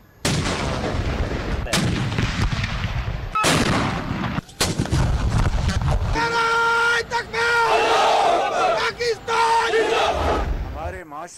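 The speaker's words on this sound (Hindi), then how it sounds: "21 तोपों की सलामी।" A 21-gun artillery salute fired at dawn at a provincial capital in Pakistan: loud, sharp cannon booms, a few seconds apart, with a crowd and other sounds filling the stretch between them.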